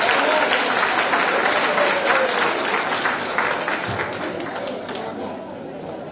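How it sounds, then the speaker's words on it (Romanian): Applause from an audience at a women's day party held by a political party, a dense wash of clapping mixed with crowd chatter, steady and fairly close, slowly fading over several seconds. "Aplaudăm mai tare!"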